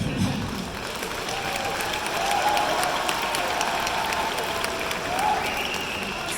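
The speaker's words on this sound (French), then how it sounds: "Je sais pas si je mérite des applaudissements" An audience at a comedy show applauds, a dense, steady round of clapping with faint cheering mixed in, lasting several seconds.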